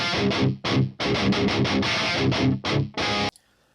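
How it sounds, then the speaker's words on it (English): Heavily distorted electric guitar through a Hughes & Kettner Warp X amp, captured on an SM57 microphone, playing chugging rhythm bursts with short gaps between them, loud and alone, ending in abrupt silence. "So this is what the SM57 track sounds like by itself."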